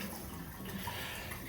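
Water running through the pipes of a home boiler heating system after a bypass valve is opened, a faint, steady gurgling flow heard close up and alone.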